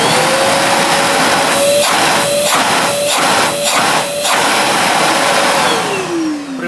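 A Bosch GAS 400 A vacuum cleaner runs loudly and steadily at close range, holding a constant whine with a few brief rhythmic dips in the middle before its pitch falls away as it starts to power down.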